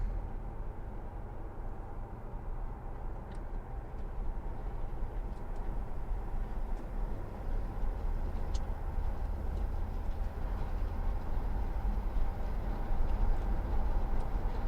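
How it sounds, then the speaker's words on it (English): A Marauder vehicle cruising around Lake Cuyamaca in the mountains, with a steady low engine and road rumble through an open window, continuous and moderately loud, with faint chirps above. "So I'm going to take you on a little drive around"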